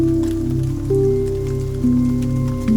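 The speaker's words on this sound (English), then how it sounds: "Raindrops on Rooftops." Rain patters steadily on Amsterdam rooftops, a continuous soft hiss of drops that sits beneath a sustained, slowly shifting musical drone.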